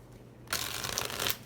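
A quick burst of tarot card shuffling, a dense papery riffle lasting about a second after a short quiet start.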